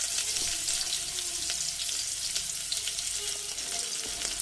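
Thinly sliced potatoes and split green chillies sizzle in hot oil over black cumin seasoning, a dense, continuous close-up crackle and hiss at steady loudness with small pops scattered throughout.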